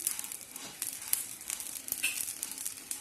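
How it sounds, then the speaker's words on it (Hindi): Cumin and coriander seeds fry in a pan until light brown, giving a steady, fairly quiet hiss of fine crackles and pops with scattered sharper spits. "ये हमने ज़ीरा भाई और धनिया भाई को जो है ना लाइट ब्राउन कर लिया है"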